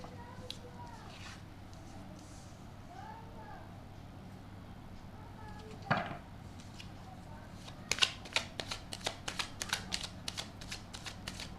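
Tarot cards riffle and slap together in a rapid run of crisp, close shuffling bursts, quieter handling first and then a quick rhythmic flurry near the end, with someone speaking faintly.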